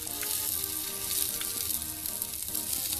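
Salted beef tongue with green onion (negi tan shio) sizzles in a Captain Stag outdoor frying pan, a loud, continuous crackling fry with small popping spatters, the meat slightly overcooked.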